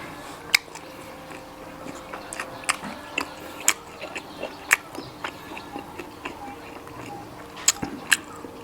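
Crispy pork is bitten and chewed close to the ear, a string of sharp crunches at uneven intervals over soft wet chewing, with no talk.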